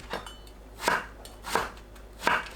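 A knife slices eggplant into 1 cm pieces on a cutting board in three evenly spaced, crisp thuds, close by, with no talking.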